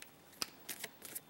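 Playing cards being shuffled in a few quick, crisp riffling bursts, close and fairly quiet, with no talk.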